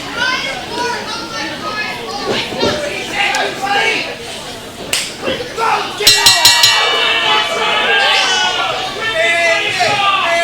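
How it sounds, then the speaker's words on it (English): A youth crowd cheering and chattering in an auditorium at a wrestling show, with excited children's voices, shouts and a bell clanging rapidly partway through, while an announcer talks over it. "You can already hear the crowd here in the Auditorium cheering for Aiden the Dragon."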